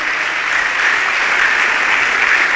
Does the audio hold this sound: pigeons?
no